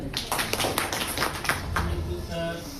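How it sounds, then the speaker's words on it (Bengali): Students in a classroom clapping, a brisk run of uneven hand claps close by that fades toward the end, with background voices mixed in. "অর্থাৎ এটা হাততালি।"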